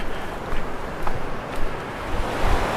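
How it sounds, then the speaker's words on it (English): Along the Laurel River Trail in Pisgah, a river flows as a steady rushing wash, close and fairly loud, with light wind buffeting the microphone. "So we're coming up on another wide section of river here."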